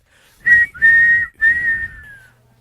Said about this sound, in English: Blow the whistle.